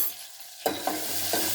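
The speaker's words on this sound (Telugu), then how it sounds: "1 నిమిషం తిప్పాలి, మగ్గాలి." Sliced onions sizzle in a hot pan with turmeric and salt, with a spoon scraping and stirring them in a few soft, close strokes over a steady frying hiss.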